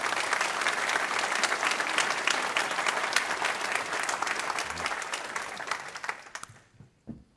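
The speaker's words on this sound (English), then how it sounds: "let's just give them a big round of applause for what they did" Applause from a crowd at a Tory leadership hustings in Exeter: loud, dense, sustained clapping that holds steady and then tapers off into a few scattered claps near the end.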